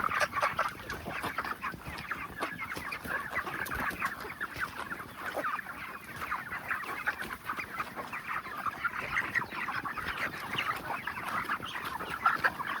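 Broiler chickens clucking steadily in a poultry farm shed, a dense continuous chorus of many birds close by with no voices.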